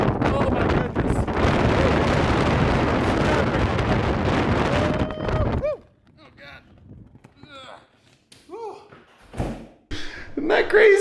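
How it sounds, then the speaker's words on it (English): Strong wind at the South Pole roars loudly as a broadband rush into the microphone for several seconds, then cuts off abruptly, leaving quieter indoor knocks and a person speaking. "I'm cold because the wind is right in my face"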